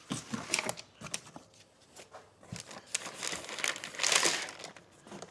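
Sheets of camo stickers crinkle and rustle as they are handled close by, with irregular crackling bursts that swell and fade and one louder crumple near the end.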